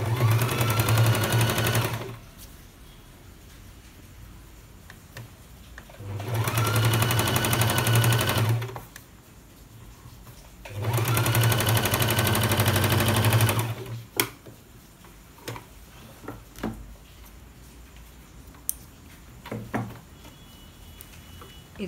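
A sewing machine stitches a Patiala pant in three loud, steady bursts of rapid mechanical whirring, each a few seconds long, separated by quieter pauses with small clicks and handling noises.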